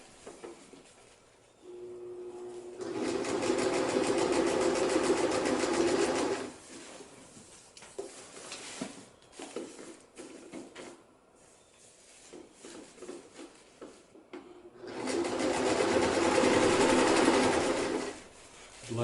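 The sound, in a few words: sewing machine stitching fabric for a DIY sleeping bag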